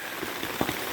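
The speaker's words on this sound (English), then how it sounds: "our luck finally ran out and we hit a rain burst back there" Rain burst falling on hikers' gear and umbrellas along the Ozark Highlands Trail, a short spell of steady close patter with a few louder drops, no talking.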